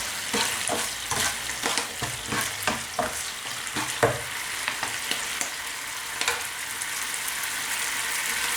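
Fish, a tubtim fillet, frying in hot oil with a steady close sizzle and a rapid run of utensil clacks and stirring knocks early on that settle into smoother frying.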